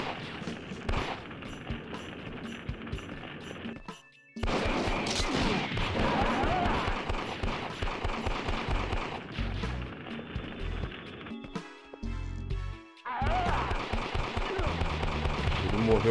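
Arcade game Elevator Action Returns, with dense bursts of explosions and gunfire crackling rapidly, cutting out briefly then resuming with loud layered blasts and electronic tones over several seconds.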